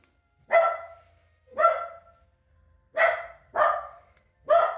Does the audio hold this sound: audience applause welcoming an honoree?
no